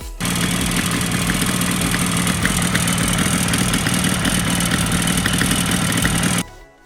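A 1966 Bridgestone 350 GTR motorcycle engine runs steadily at idle, a loud, dense buzzing drone held evenly for several seconds before cutting off abruptly.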